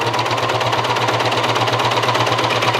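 A sewing machine stitches elastic into fabric for ruching, a loud, close, rapid steady needle rhythm with a mechanical hum running evenly from start to finish, no talking.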